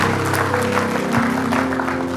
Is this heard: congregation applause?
yes